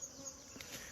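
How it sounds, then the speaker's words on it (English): Wild bees buzz steadily and close by as they are smoked toward a hive entrance, a continuous dense drone with no voices. "He's having the bees smoked so that he can lead them into the doorway."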